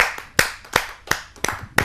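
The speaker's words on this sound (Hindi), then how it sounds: "सबकी जोरदार तालियों से।" Audience clapping at a Hindi poetry gathering, a kavi sammelan, heard as a handful of sharp, separate claps spaced irregularly and close by, with no voices.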